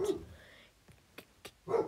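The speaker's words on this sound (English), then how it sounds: "Don't worry about my dog" A dog gives a few short, sharp barks and yips, one at the start and a couple more near the end, with quiet gaps between them.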